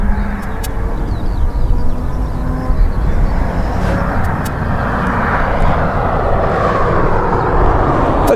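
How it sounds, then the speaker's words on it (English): An aircraft coming in to land at Donington Park airfield, a continuous broad engine roar heard from outdoors at moderate distance, with faint bird calls over the top and no talking. "Oh no, it is a real aircraft."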